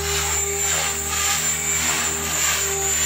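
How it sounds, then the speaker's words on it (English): Remote-control helicopter pirouetting in the air, giving a steady, loud, high-pitched rotor and motor whine that holds without a break throughout. "You want to pirouette right in front of yourself and try to move the helicopter to the left."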